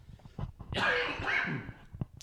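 One loud, close sneeze: a short intake, then a drawn-out breathy burst that trails off, with faint scattered sounds before and after.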